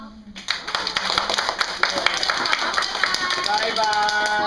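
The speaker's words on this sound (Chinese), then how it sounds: "我们一起掌声谢谢善良妈妈" Audience applause rises quickly to a dense, steady clapping that fills the room, moderately loud, with voices mixed in.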